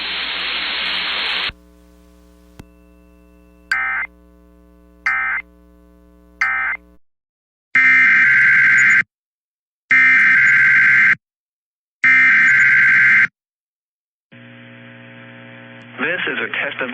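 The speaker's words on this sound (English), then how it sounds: "The attention signals you just heard will automatically activate special receivers to warn of the impending hazard." A NOAA Weather Radio warning alarm test, with three short beeps followed by three loud, long steady attention tones in an even rhythm, then a broadband static hiss. A low mains hum runs underneath.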